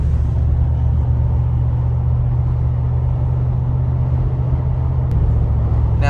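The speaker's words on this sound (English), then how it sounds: "It's really just slight wind noise, but nothing dramatic." Cabin noise inside a 2025 Mercedes-Benz G63 AMG cruising at 60 mph, a constant loud low rumble of road and wind noise with a faint airy hiss above it, no talking.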